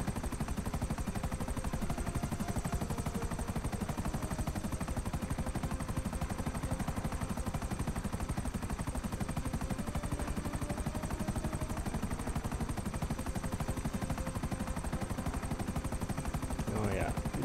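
Pursuing helicopters in the video game GTA V Online make a steady, dense rotor drone that runs unbroken for the whole stretch and masks everything else.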